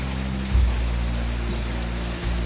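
Steady rain falls on a wet outdoor spot beside a broken weather radar and rain gauge, a continuous hiss with a low rumbling undertone and no voices.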